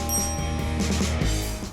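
A bright bell chimes near the start and rings on over a steady tonal backdrop, with no talking.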